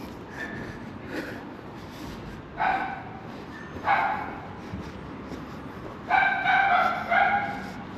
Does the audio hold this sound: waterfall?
no